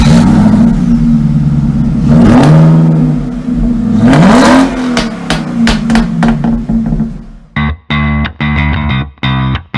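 Mazda CX-80 seven-seat SUV engine revving and accelerating on the road, rising tones swelling twice, followed by a choppy burst of sharp mechanical noise near the end; no talk.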